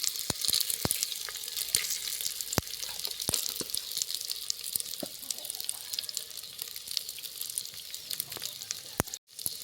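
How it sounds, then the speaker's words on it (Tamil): Bell pepper (capsicum) sautéing in a pan after green chillies, a steady close sizzle broken by sharp crackles and pops, ending in a brief cut of silence. "குடை மிளகாய் நல்லா வதங்கட்டும்"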